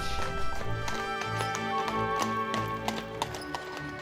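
Horse hooves clip-clop in a steady trotting rhythm as a horse and carriage travel through a designed English parkland landscape, the clear, fairly close hoofbeats joined by faint background sounds and no talk.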